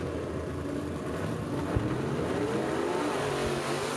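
A gasser drag race car at a Southeast Gassers event in Clay City, Kentucky launches off the line with a loud, rough, continuous engine roar that holds steady, broken by a couple of sharp knocks.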